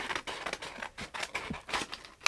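Scissors snip through paper while a stop-motion paper puppet's body is roughly cut out: a quick series of close, crisp cuts in uneven bursts, with no talking.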